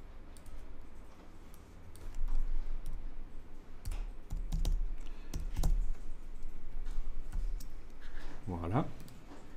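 Keyboard typing at a computer during a classroom design lesson, short clusters of soft key clicks under a steady room hum, with a voice speaking between bursts.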